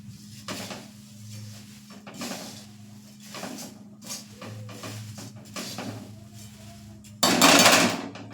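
Puffed rice being stirred in a hot aluminium kadai for garlic sev mamra, heard as rhythmic scraping and knocking strokes with a low background hum, ending in a louder metallic rattle, with no talking.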